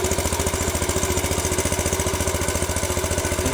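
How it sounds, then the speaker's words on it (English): An original 1961 Cub Cadet tractor engine running with a muffler fitted, a loud, close, steady throbbing exhaust with a fast even pulse and no pauses. "It sounds wild with that muffler."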